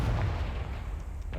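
A Confringo fire spell blast in Hogwarts Legacy, a single heavy low booming burst that rumbles briefly and then fades, with nobody speaking over it.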